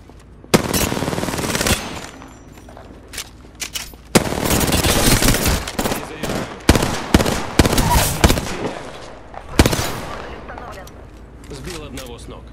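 Rapid bursts of automatic gunfire in the video game Apex Legends, loud and close, with several sustained volleys and sharp single shots separated by brief pauses, while a voice speaks intermittently underneath.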